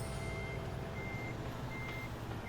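A semi truck backing up a trailer in American Truck Simulator gives steady, evenly spaced reversing beeps over a constant low engine rumble.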